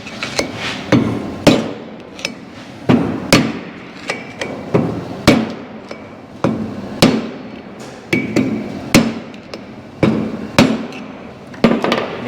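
Heavy blows from a large hammer knocking a part loose while working on a 1956 Chevy truck, loud sharp metallic strikes coming in uneven bursts with short pauses, close by and with no talk.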